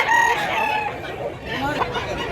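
A three-year-old Lambuhon x Kanawayon gamecock crowing loudly and close, a drawn-out strained call with a few clucks and faint voices in the background.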